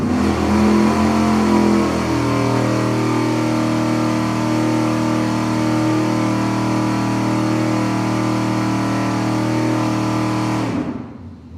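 An engine on a dyno in a 4,700 RPM steady-state test with aluminum heads runs loud and constant for about eleven seconds, a sustained drone that holds pitch before cutting off abruptly at the end.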